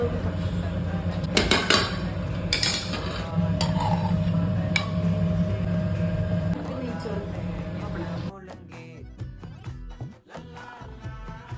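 A cooker holding prawn biryani being opened, with metallic clinks and lid clatter from pots and utensils while a person talks, then music takes over.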